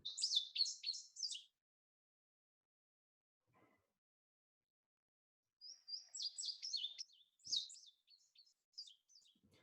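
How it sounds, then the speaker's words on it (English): An indigo bunting sings high, rapid chirping phrases, one burst at the start, then a quiet gap, then a longer run of paired notes, all fairly faint against a silent background. "one of my favorite songs, one of the easiest to learn, is the indigo bunting"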